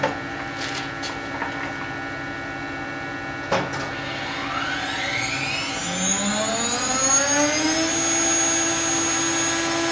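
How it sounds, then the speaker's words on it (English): CNC router cutting a finishing tool path on a 3D knight's shield, a steady high spindle whine with rising and falling sweeping tones as the cutter moves back and forth, after a brief sharp click. "come down quietly, and come back and forth, and start to machine the finishing tool path"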